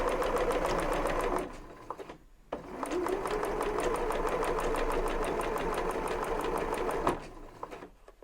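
A sewing machine runs in long continuous bursts, stitching layered fabric for a face mask, with a brief pause between runs as the fabric is realigned, then stitching resumes at a steady close hum.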